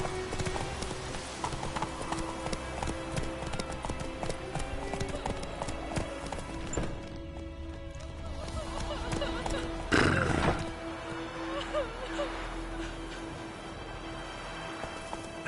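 Horse hooves clip-clop at a gallop with a loud neigh partway through, set in The Witcher 3 video game, steady and close over game music and ambient sound.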